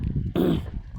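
A dog gives a short, close whimper around a farm with buffalo, a brief strained whine over low background rumble.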